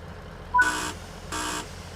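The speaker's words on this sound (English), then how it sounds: "There's the guards buzzer." In Train Sim World 3 on the Midland Main Line, the guard's buzzer sounds twice in quick succession, two short, even buzzes over a quiet cab hum.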